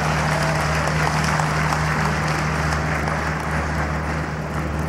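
Sustained clapping from a large audience at Prime Minister Nawaz Sharif's rally, broad and even for several seconds, tapering slightly near the end over a constant low hum.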